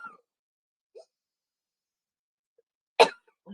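One sharp, deliberate cough bursts out close and loud during a quiet qigong session, set among a few short faint breaths and small vocal sounds.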